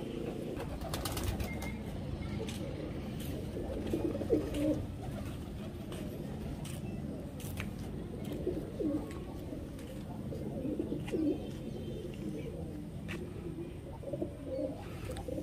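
Pigeons coo in soft, low repeated calls amid rustling and a busy background, close by and steady over the whole stretch, with occasional wing flaps and faint voices.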